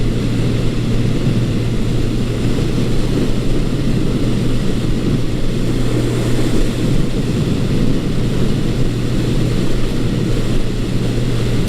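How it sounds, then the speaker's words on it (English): A 1980 Honda CB900 Custom motorcycle cruises in high gear, its engine giving a steady, smooth, even drone close by with no surging or dips, unbroken for the whole stretch. "as you can hear, there's no hesitation in the carburation, there's no surging. This bike runs very, very smoothly now."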